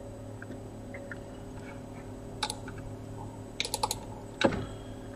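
Typing on a computer keyboard, a few sparse soft taps followed by short clustered bursts of sharper key clicks near the end, close and fairly quiet over a steady background hum, with no talking.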